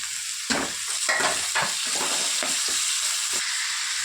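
Carrots, potatoes and beans fry in hot mustard oil, giving a loud, continuous sizzle broken by repeated scraping stirs close by.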